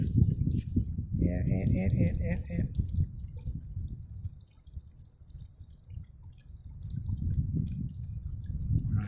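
A water buffalo urinates outdoors at a swamp, a splattering stream hitting the ground, steady then tapering off, with a voice talking over part of it.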